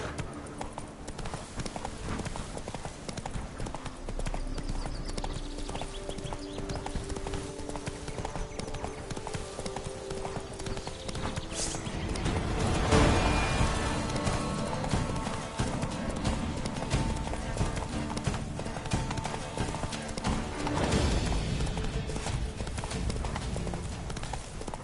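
Horse hooves gallop steadily in Witcher 3: Blood and Wine, a continuous clip-clop rhythm running throughout, with a brief whinny and rider shouts layered over it.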